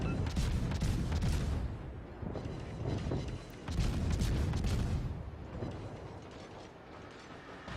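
Naval guns of the destroyer Gearing firing in a video game, several heavy booming salvos in uneven bursts with mechanical clanking between them, fading to quieter rumble toward the end.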